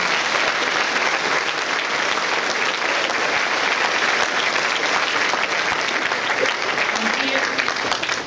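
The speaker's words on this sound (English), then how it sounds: "And I think we should give them a round of applause for their." A school crowd gives a steady round of applause for the girls' basketball team and their coach after a playoff run, dense clapping sustained throughout.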